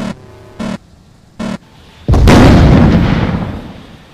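Missiles fired in a Roblox video game: three short electronic beeps followed by a loud, booming launch blast that roars and slowly fades, up close with no talk.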